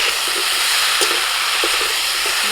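Chicken fries in a pan with spices, a loud steady sizzle broken by occasional scrapes and clicks of stirring, with no talking.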